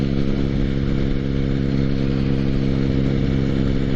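Motorcycle engine running steadily while riding on a road, a constant loud mid-range drone with harmonic hum and no pauses or speech.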